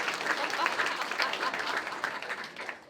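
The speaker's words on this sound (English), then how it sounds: "give a big round of applause" A burst of crowd applause at a live podcast show, steady clapping from many people that gradually fades toward the end.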